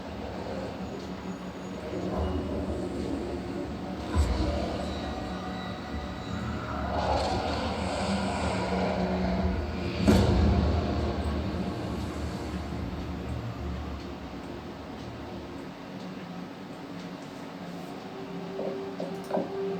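Call of Duty Ghosts game audio plays through Edifier R1280DB Bluetooth speakers, a moderately loud rumbling mix of aircraft-like engine drone, distant impacts and muffled in-game voices continuing throughout.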